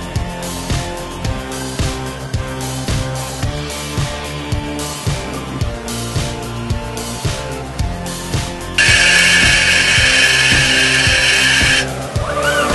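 Centroid Acorn CNC lathe rigid tapping a quarter-20 thread, with a steady, rhythmic machining whir that pulses regularly and turns into a brighter, higher whine near the end as the spindle speeds up.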